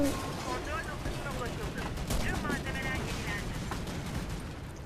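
Gunfire crackles in Warface, rapid bursts and sharp shots layered into a dense, continuous barrage with booming hits, while players talk excitedly over the noise.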